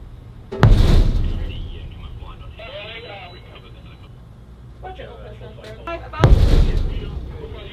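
Naval gun firing during a Royal Navy exercise in the Baltic Sea, two loud booming shots about six seconds apart, with radio-style voices talking in between.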